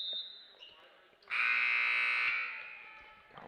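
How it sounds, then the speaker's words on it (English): A basketball timeout buzzer horn sounds in a school gym during a tournament game, one loud sustained tone lasting about a second, with a commentator's voice and faint arena noise around it. "They got the timeout buzzer a little late there, didn't they?"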